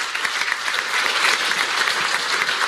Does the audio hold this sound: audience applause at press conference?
yes